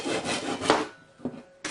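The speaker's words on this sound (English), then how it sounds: "Now I'm going to cut off a piece, and I'm going to leave about a 1/2 inch of dowel remaining." A handsaw cuts off a piece of wooden dowel, rasping in quick close strokes with a pause near the end and a brief final scrape.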